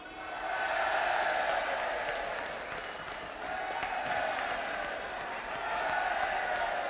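Audience applause fills a Limburg carnival song-contest finale hall in Weert, a steady dense wash of clapping that swells and dips slightly across the whole stretch.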